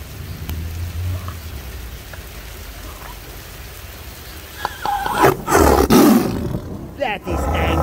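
An angry tiger roars close and loud near the end, after a stretch of rain and ambient noise with a voice present.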